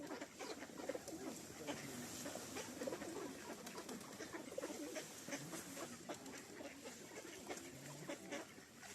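Pigeons coo and flutter in a steady outdoor chorus in a park in Truskavets, Ukraine, with low murmuring voices and background bustle underneath.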